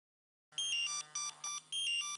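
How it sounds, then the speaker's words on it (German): A game alarm in the fire and rescue simulator Emergency 4 sounds after a brief silence, a loud electronic warbling tone in repeated short pulses and one longer final burst, with no other sound. "Alarm."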